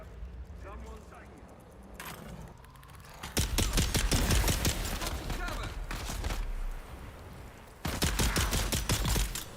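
Pistol gunfire in the video game Dune Awakening: sharp, rapid shots in dense bursts, loud and close, with a quieter stretch between volleys and a final burst near the end.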